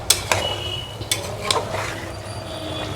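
Mutton bhuna being stirred and fried in a pan, with a few sharp utensil clinks against the metal early on over a steady low frying hiss, then a quieter, continuous scraping.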